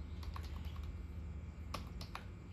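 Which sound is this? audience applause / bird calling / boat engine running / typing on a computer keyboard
typing on a computer keyboard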